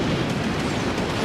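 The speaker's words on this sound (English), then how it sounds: "said leader's death results in a massive nuclear explosion" Massive nuclear explosion as a commander unit dies in the real-time strategy game Supreme Commander, heard as a loud, dense, continuous roar filling the whole short burst.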